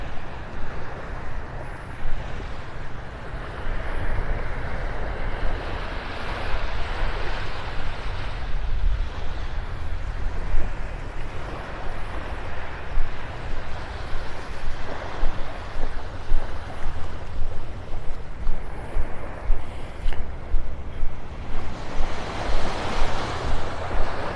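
Waves break and wash along an empty beach at Pelican Bay in North Naples, Florida, on a morning walk, a continuous surf roar with wind buffeting the microphone and rhythmic swells growing more distinct toward the end.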